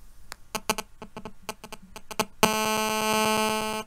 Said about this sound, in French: ce bip bip, là, ces interférences extrêmement ennuyeuses